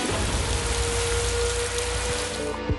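Steady rain falls in a mountain landscape with a dense, even hiss of drops striking surfaces that holds unbroken throughout, with no voices.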